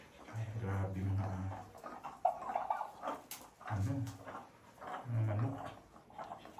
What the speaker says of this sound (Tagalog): Nauhaw ang aso.